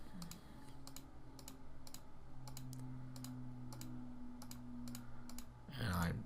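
Soft, quick clicks from a computer mouse while cells in a spreadsheet are selected, about a dozen light taps in a fairly steady rhythm under a low background hum.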